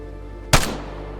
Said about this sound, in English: fire rate has been decreased for the M21